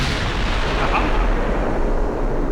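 A battleship shell strikes home, penetrating and starting a fire in the naval warfare game Ultimate Admiral Dreadnoughts, heard as a loud, sustained rumbling blast with dense roaring noise throughout.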